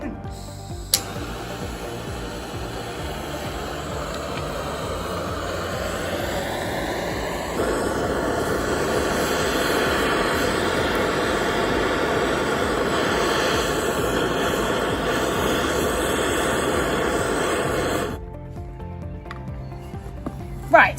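A blowtorch flame heating a block of ice cream gives a continuous close roaring hiss that grows louder partway through, holds steady, then cuts off abruptly near the end.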